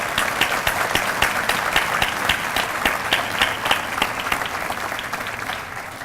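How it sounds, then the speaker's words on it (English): An audience at a 2015 State of the City address applauds the city council and executive staff. Moderately close clapping stays steady and even, with distinct individual claps, then eases off slightly at the end. "Please join me in giving them a round of applause"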